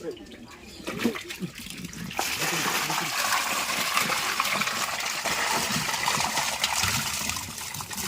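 Water rushes and gurgles steadily as it drains out of a small fishing pit, growing louder after a moment, while people talk over it.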